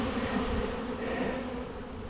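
Honeybees droning around an open, weak hive during an inspection, a steady close buzzing hum from many insects with no talking.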